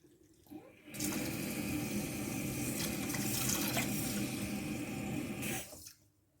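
Cloudy rinse water from a pan of washed rice pours out into a sink in one steady, loud, broadband gush lasting about five seconds, then tapers off quickly, with no talking.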